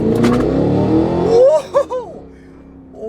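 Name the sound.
Cadillac Escalade V ESV engine accelerating in V mode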